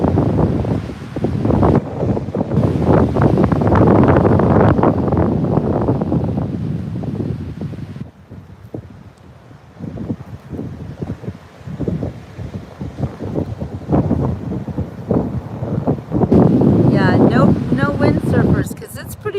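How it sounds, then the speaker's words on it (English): Ocean waves crashing on Jensen Beach on a cold, windy late afternoon, a loud continuous roar of surf with heavy wind buffeting the microphone and swelling surges near the end. "Wow, the power of the waves."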